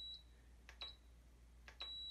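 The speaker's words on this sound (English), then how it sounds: "there's not only the LED coming on, there's a confirmation beep" A VOVO VB-6000SE bidet remote gives short electronic confirmation beeps, three faint high tones spaced about a second apart with button clicks before them, in a quiet room.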